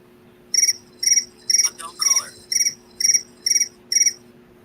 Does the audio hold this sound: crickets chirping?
yes